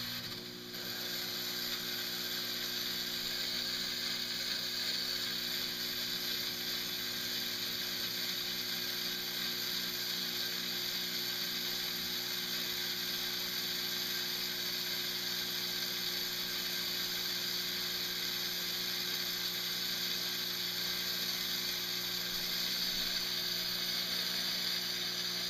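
Stage fog machine running with a fan chiller attached in a Venturi-style setup gives a steady, continuous mechanical whir and hiss that stays level and close throughout, with no talking.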